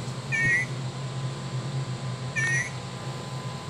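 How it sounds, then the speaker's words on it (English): A Wild Republic Audubon plush toy plays a spring peeper frog call: two short, high, thin peeps about two seconds apart over a faint background hum. "Spring peeper."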